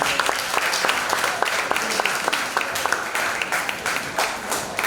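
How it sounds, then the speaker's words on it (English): Audience at a pre-K graduation applauds a guest invited to the stage, a steady patter of many hands with distinct individual claps standing out, moderately near and fairly soft. "Let's give her a large round of applause"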